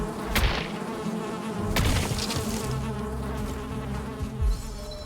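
Bees buzzing in the video game Valheim: a dense, continuous droning hum from several insects, loud and close, with swells as they pass nearby and no talking.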